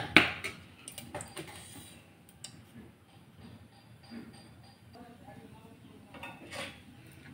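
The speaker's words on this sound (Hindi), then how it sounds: "ये 2 चम्मच तेल में डाल ले रही हूँ बड़े चम्मच से" A big spoon clinks against a metal pot as two spoonfuls of oil go in for a mutton and potato curry, with faint scattered ticks and taps in a quiet kitchen.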